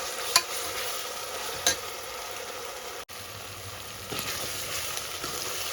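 Ginger paste and masala frying in a pan for goat head curry, a close continuous sizzle with a few soft stirring knocks and a brief dropout midway, no talking.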